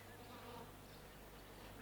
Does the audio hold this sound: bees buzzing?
yes